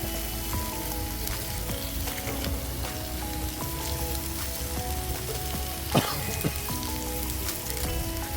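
Chopped garlic sizzling in a hot steak pan, a steady crackling fry with a brief louder spatter near the end, with faint background music and no talking.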